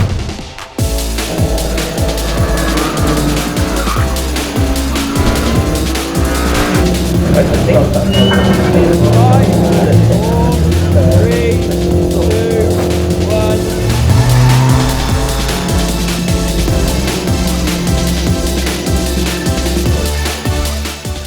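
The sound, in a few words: BMW 116 Trophy race cars racing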